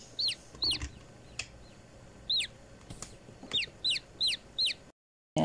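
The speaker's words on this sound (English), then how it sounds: "And she does have chickens. Little chickies." Chickens in the video game Summer in Mara cluck in a steady series of short, bright calls, fairly close and repeated about eight times over faint ambient background, with no speech.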